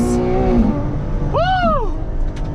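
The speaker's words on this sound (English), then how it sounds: "the induction noise is to die for" A Ferrari 812 Competizione accelerates hard, its engine intake and exhaust rising in a loud, close revving howl with a quick upshift, heard from inside the car under brief talk.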